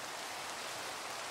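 Steady, soft rain falls in Minecraft with shaders on, a continuous even hiss with no other sounds over it.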